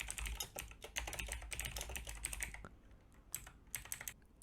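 Rapid keystrokes clatter on a computer keyboard while HTML tags are entered, a steady close run of clicks that pauses briefly and then resumes with a few more taps.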